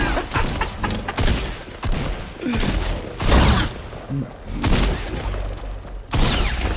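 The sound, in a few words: blaster shots being fired in Fortnite Star Wars video game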